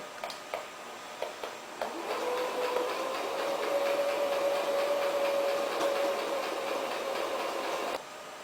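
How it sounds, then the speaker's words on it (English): Sewing machine stitching a fabric mermaid tail, a few soft clicks then a steady close whirring hum for several seconds that cuts off abruptly. "I'm going to start sewing a few inches up"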